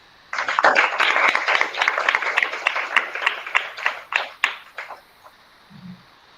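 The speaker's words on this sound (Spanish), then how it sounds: "Un fuerte aplauso" A lecture audience breaks into a burst of applause: dense, lively clapping that starts abruptly, holds for several seconds, then thins into scattered claps and fades out.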